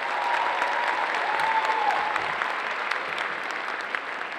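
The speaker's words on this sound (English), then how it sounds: "let's give them a round of applause for that" An audience at a cosplay contest claps in steady, sustained applause that fills the room, with a faint voice briefly heard beneath it.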